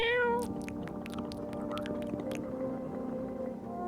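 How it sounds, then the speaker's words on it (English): A video-game cat lets out a drawn-out, whiny meow that trails off, set against a humming music bed with scattered clicks. "Feed the cat some canned food."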